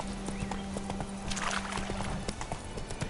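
Horse hooves clip-clopping at a steady galloping rhythm in The Witcher 3, the horse Roach ridden across open ground, with a brief whinny and ambient game sound underneath, up close and fairly loud.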